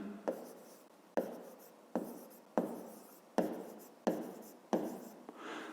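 A pen writes math by hand on paper, a steady series of short scratchy strokes, each starting with a sharp tap and trailing off, repeated about seven times close and fairly quiet.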